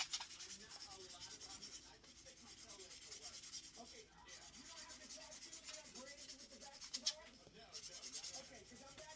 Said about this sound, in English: I'm using a sanding block. This is like a medium grit sandpaper block.